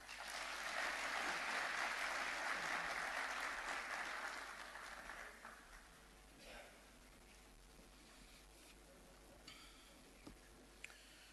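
An audience at the 2018 SALGA Energy Summit in Johannesburg claps in a steady, dense burst that fades out after about five seconds. A few faint scattered claps and small clicks follow in the quiet.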